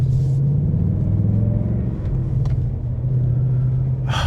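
A deep 2025 Ford Mustang GT Coyote V8 engine rumbles steadily, loud and close, with a low throaty drone that swells slightly; no talking.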